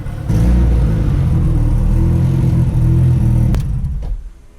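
A 600HP LS-swapped VTEC Honda Civic with a failing head gasket drives around the block, its loud, steady deep engine rumble holding close and strong before easing off and dropping away near the end.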